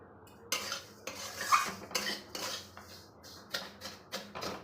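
Vermicelli fried in ghee in a wok is stirred with a metal spatula, giving sharp clanking scrapes in an uneven rhythm, close and distinct, over a faint sizzle.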